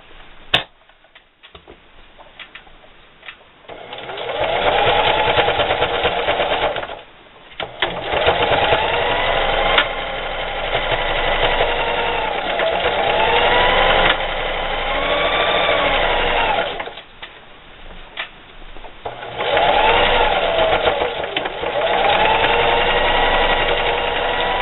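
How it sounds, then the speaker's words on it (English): A sewing machine zigzag-stitches a patch onto jeans in several long bursts of rapid, steady whirring and ticking, separated by brief pauses, close and loud. "now I'm just going to zigzag all the way down, like I've been doing, back and forth, all the way down"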